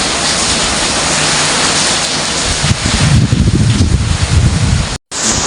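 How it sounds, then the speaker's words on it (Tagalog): Strong typhoon wind in Albay, Philippines, roars steadily with heavy rain hiss, gusts buffeting the microphone and growing rougher partway through, then a sudden brief cutout. "Malakas yung hangin, parang aakbutin yung bubong ng garahe."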